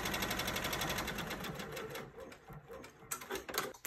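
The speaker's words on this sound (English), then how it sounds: "Go back to the machine, let it do the tack down." Embroidery machine stitches a tack-down line on vinyl, a fast steady rhythmic needle clatter, close and continuous, with the pattern breaking up near the end.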